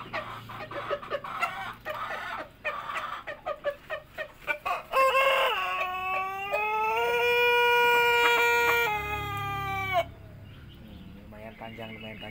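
A rooster crows loudly in a farm coop, with a long drawn-out cock-a-doodle-doo following a series of clucks and short calls from chickens, while a person talks nearby.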